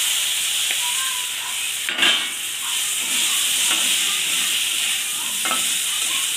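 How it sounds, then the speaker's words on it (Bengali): Potatoes and bitter gourd frying in a pan give a steady, loud sizzling hiss, with a few scraping stir strokes breaking through it. "এটা একটু ভেজে নেব।"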